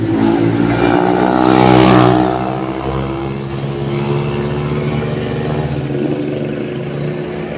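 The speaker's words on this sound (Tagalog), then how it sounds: "May mga gamit sila na talagang may ingay yung tambutso." A car's loud modified exhaust roars close by on a road as the engine revs up and holds, a continuous throaty drone that swells and then eases slightly.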